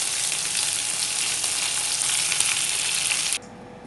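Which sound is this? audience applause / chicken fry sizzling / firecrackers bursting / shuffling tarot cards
chicken fry sizzling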